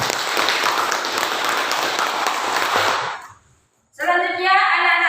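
Students in a classroom break into lively applause for about three seconds; it fades to silence and a voice follows.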